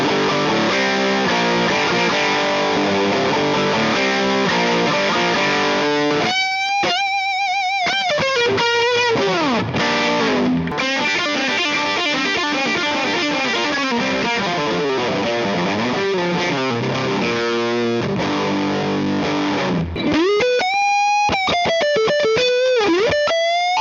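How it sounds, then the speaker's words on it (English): Electric guitar through a Blues Driver overdrive pedal plays a bluesy solo with bent, sustained notes and gritty distortion, loud and continuous throughout. "a kicking overdrive blues tone for when you're wailing and peaking with your solo"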